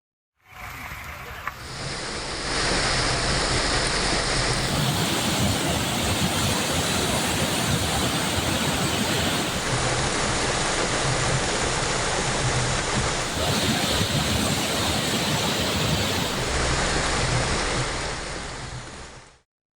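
Aagaya Gangai waterfall in the Kolli Hills, swollen to flood after heavy rain, gives a loud, steady, broadband roar of rushing water that carries on without a break.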